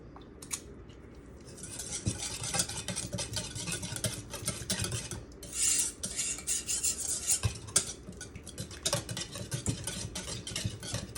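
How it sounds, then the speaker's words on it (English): A whisk beats quickly in a bowl, giving a busy run of rapid metallic ticking and swishing that starts after a brief pause and carries on steadily close by, with no talk. "Okay, so I've got the whisk."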